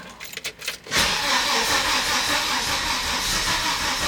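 A Volvo 850 engine cranks briefly, then catches and runs roughly on only some cylinders with a loud, steady, uneven rumble and hiss.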